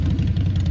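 A brief, low, steady American motorcycle engine idle with a throbbing rumble.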